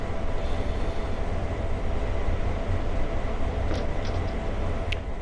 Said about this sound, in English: I guess we got on the train then.